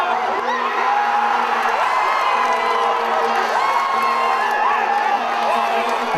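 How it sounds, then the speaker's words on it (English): A World Cup football crowd roars steadily with whoops and shouts, and long sustained horn-like drones run underneath while a voice speaks over the noise. "the crowd's sense of anticipation is at fever pitch"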